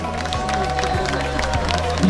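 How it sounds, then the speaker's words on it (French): Spectators at a triathlon in Villevêque clap for Romain and his father, a steady patter of applause and cheering under background voices and continuous crowd noise. "Mesdames et messieurs, faites un maximum d'applaudissements pour Romain et son papa."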